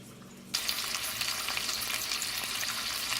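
Smoked sausages, cooked from frozen, sizzle in a pan. After a short quiet lead-in, a loud, dense, steady frying hiss with crackle starts abruptly and continues alone.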